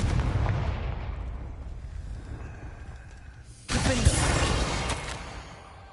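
A Confringo spell bursts in Hogwarts Legacy, a sudden loud fiery blast with a whooshing crackle that trails off, following a quieter stretch of fading rumble.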